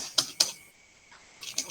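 Fingers tap a computer keyboard, a handful of crisp clicking keystrokes: two quick presses, a short pause, then a few more near the end.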